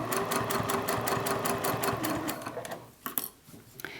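A sewing machine runs steadily stitching a straight seam on a small zippered pouch, a rapid even needle clatter for a couple of seconds, then slows and stops with a few scattered clicks, close up.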